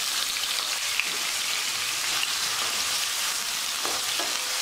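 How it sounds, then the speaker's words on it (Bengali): Potatoes fry in hot soybean oil for an eggplant and potato curry, giving a soft, even crackling sizzle with faint occasional pops and no voices. "তেলটুকু গরম হয়ে যাওয়ার পর দিয়ে দিচ্ছি আলুগুলো"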